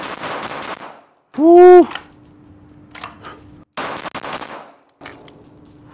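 Several loud, close gunshot bursts from a Sig Sauer P226 XFive pistol ring out at uneven intervals, with a short excited whoop from a man between shots.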